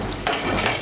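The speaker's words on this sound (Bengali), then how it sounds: "আদা বাটা, রসুন বাটা আর কাঁচা লঙ্কা বাটাটাকে ভালো করে মিশিয়ে নেব তেলের সঙ্গে, মিশিয়ে নিয়ে একটু ভেজে নেব" Ginger, garlic and green chilli paste frying in oil for a soyabean egg omelette curry, a short burst of soft sizzling with a couple of faint stirring scrapes, close and fairly loud.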